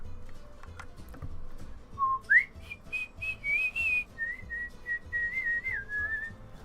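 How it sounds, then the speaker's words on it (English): A pet bird whistles a series of clear, sustained pitched notes, rising then holding and wavering, fairly close and alone over faint background noise. "Seep's whistling power like DDD's lightning powers."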